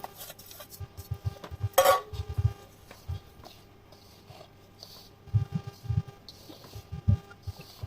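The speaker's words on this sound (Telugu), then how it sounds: "కారం కూడా వేసుకొని బాగా కలుపుకోవాలి మొత్తం అన్నీ కలిసేలాగా కలుపుకోవాలి" Spoon mixing chili powder into mango pickle (avakaya) in a bowl, with scattered soft scraping and clinking strokes and one sharper clatter near the start, close and fairly quiet.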